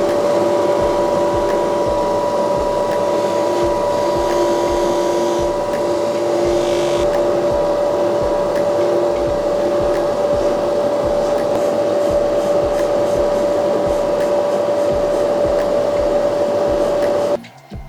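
A polishing machine buffs a sentimental charm bracelet being remade into a modern bangle, producing a loud, steady motor whine with a sustained tone that runs unbroken for about seventeen seconds before cutting off abruptly.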